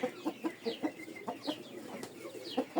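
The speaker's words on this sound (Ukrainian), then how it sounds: "А це квочка ходить. Брама." A brooding Brahma hen clucks nearby in a farmyard, soft repeated clucks in an irregular rhythm, close and fairly quiet with no talking.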